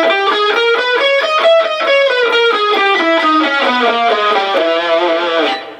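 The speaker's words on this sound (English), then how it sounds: "The sixth mode is called Lydian sharp 2, and that one goes like this." Distorted electric guitar with effects plays the Lydian sharp 2 mode of harmonic minor, a steady run of single notes climbing and then descending, loud and alone, ending on a held note.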